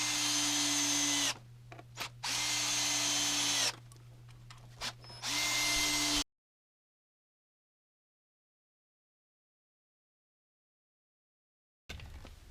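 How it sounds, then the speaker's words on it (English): Power drill pre-drilling and driving screws into wood to mount casters on a movable pegboard wall, with several loud whirring bursts separated by short pauses, then a long silence and a brief final burst. "I use my 9/64 bit again to pre-drill the holes so we don't split the wood"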